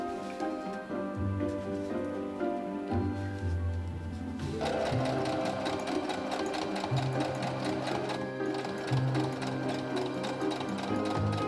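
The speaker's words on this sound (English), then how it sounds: "next up is to actually sew the corset together" A sewing machine stitching corset pieces together hums and rattles steadily close by, with short bursts of sewing rising and pausing throughout and a steady machine whir underneath.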